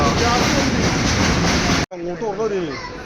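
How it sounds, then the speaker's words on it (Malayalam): An Ernakulam to Okha train arrives at a station platform with a loud, steady rumbling roar that cuts off abruptly, leaving quieter platform ambience and voices talking. "നമ്മുടെ ട്രെയിൻ എത്തി ഗാസ് ഇതാ നമ്മുടെ എറണാകുളം ടു ഓക്കാ ട്രെയിൻ"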